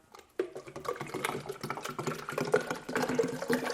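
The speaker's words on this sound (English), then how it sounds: "I'm gonna go ahead, add some water." Water poured from a container onto pre-workout powder sitting on a kitchen scale, a steady close splashing and trickling stream of a few seconds with no talking.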